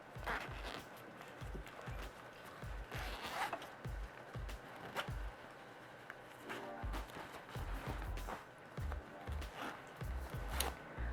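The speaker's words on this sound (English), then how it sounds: "unzip your zipper." An invisible zipper being unzipped while sewing, heard as a series of soft ticking clicks and rasps that run irregularly throughout, close and fairly quiet.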